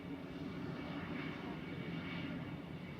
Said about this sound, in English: that's Air Transat flight 206 from Toronto.